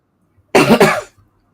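A single short, harsh cough close to the microphone, with quiet before and after.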